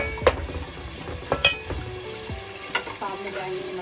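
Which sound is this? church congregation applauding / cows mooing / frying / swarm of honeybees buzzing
frying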